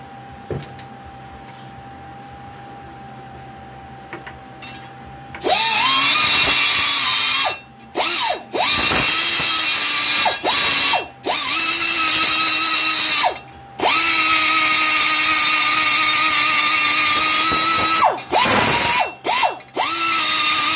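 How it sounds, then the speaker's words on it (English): An air-powered die grinder ports the exhaust ports of cylinder heads, spinning up to a loud, high whine in long bursts broken by brief pauses and short blips, close and alone. "So that being said, I'm going to go grind some more."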